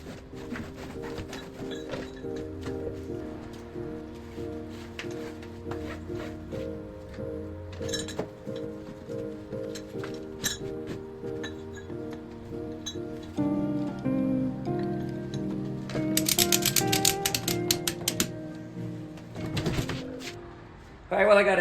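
A ratchet strap tightens an aluminum boat down to a trailer. Metallic clinks and rattling clicks come in bursts close by, growing busier and louder toward the end.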